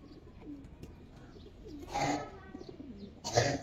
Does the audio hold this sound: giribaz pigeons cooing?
yes